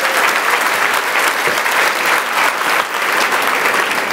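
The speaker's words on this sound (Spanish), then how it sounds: "dale un aplauso con todo su corazón" A church congregation applauds steadily, a dense continuous patter of clapping filling the whole stretch.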